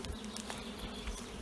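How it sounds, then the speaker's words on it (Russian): Bees swarming in a June forest, a dense continuous buzzing hum overhead with no pauses, moderately loud and alone. "здесь такой гул стоит, наверное, пчелы где-то здесь роятся"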